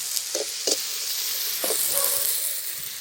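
Ginger garlic paste sautés in a pan with a continuous bright sizzle and hiss, broken by a few short scraping strokes of a spoon stirring near the start and middle.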